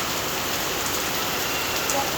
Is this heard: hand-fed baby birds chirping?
no